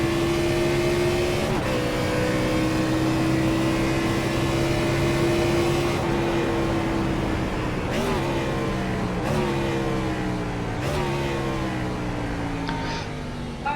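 A Gen 4 stock car engine in an iRacing-style game at Daytona road course, droning loudly at high revs with sharp gear shifts and downshifts every few seconds, steady and close throughout.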